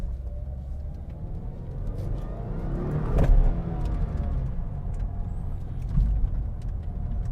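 Car driving over rough, low-quality roads, a steady low engine rumble with road noise inside the cabin and occasional bumps and thuds, no talk.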